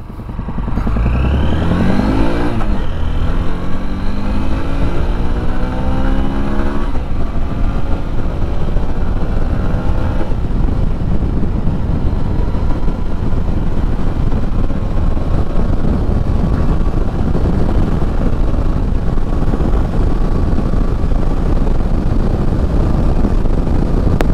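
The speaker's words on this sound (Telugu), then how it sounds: "ఎగ్జాస్ట్ సౌండ్ విన్నారు కదా, ఫస్ట్ గేర్ వేసాను." A 2025 Honda Unicorn motorcycle exhaust while riding, rising through first gear into a loud, steady engine drone with wind rushing over it, continuous and close throughout.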